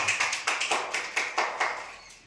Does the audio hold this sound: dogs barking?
no